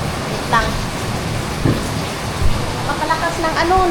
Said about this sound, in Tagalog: Napakalakas ng ano, ng ulan.